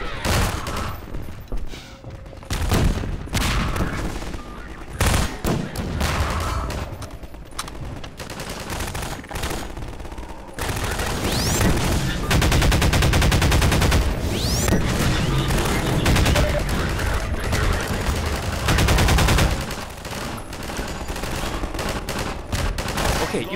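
Loud, dense gunfire from soldiers in Half-Life 2, with rapid bursts and overlapping shots forming a continuous barrage, plus a few heavier booms.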